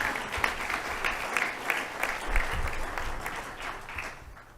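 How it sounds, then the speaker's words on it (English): An audience at an Oak Park State of the City address breaks into steady applause, a dense, even patter of many hands that holds for several seconds and tapers slightly at the end. "Yes, you can clap for that."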